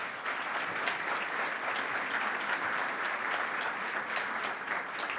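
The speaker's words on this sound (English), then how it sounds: "Stand up and take a round of applause." Steady, sustained applause from a large audience fills a banquet hall at a scholarship awards dinner, dense clapping holding at an even level throughout without letting up.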